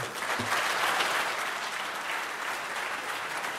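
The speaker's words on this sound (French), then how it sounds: "s'il vous plaît, je vous demande d'applaudir Roméo et Andrea." Steady applause from a sizeable conference audience, sustained clapping at even loudness throughout.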